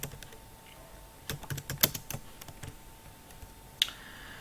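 Keystrokes on a computer keyboard typing a printf statement into a program, a run of quick clicks clustered in the middle with a sharper click near the end, close and fairly quiet, no talking.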